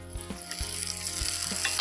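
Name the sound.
onion and spices frying in a pan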